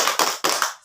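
A group of people clap in unison for a 'tepuk salut' cheer at a church youth (Sekami) gathering. The claps come in two close bursts, loud and near, with nobody talking over them.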